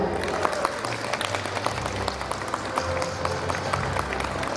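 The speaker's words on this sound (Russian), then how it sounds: "Давайте сначала поприветствуем всех наших танцоров дружными аплодисментами." An audience at a concert claps for dancers, a dense, continuous wash of applause of moderate loudness that carries on steadily with some crowd murmur beneath.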